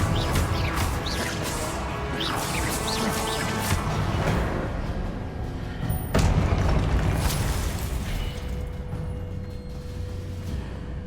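Blasting spell effects in the video game Hogwarts Legacy, a dense run of booming impacts and crackling bursts up close, loud and continuous, with one sharp crack near the middle before a rumbling tail.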